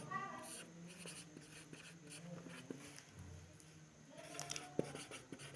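Writing on a board or paper during a class 12 maths lesson, faint scratchy strokes running steadily under quiet room noise, with a voice speaking softly at times.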